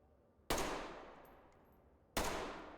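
Two loud, sharp F90 rifle shots in the video game Ready or Not, spaced well apart, each with a long decaying ring and no voices.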